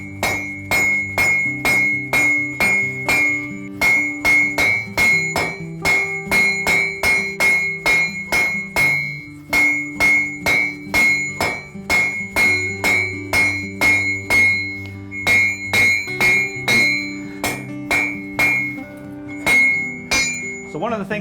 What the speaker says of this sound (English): The next most important things in the shop are these two things right here, our hammer and our anvil.